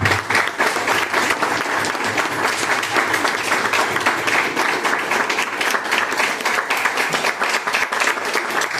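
Sustained, dense applause from an audience at a colloquium on a poet's life and work, steady and close throughout with no break in the clapping.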